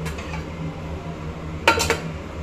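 A lid is set on a cooking pot of mutton and spinach gravy, giving a quick pair of metallic clinks over a low background hum, otherwise quiet.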